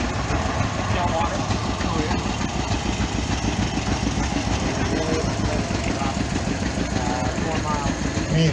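A 1957 620 two-cylinder tractor engine running in a parade at a threshing bee and two-cylinder show, a steady close rumbling throb with rapid regular pulses continuing throughout, voices faintly in the background.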